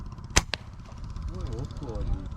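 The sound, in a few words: Gamo Black Night air rifle shot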